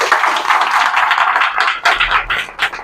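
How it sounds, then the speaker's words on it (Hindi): An audience at an AWPL network product presentation breaks into applause, dense, continuous clapping lasting a few seconds, with a few sharper individual claps near the end. "इसके लिए एक बार ताली हो जानी चाहिए भाई"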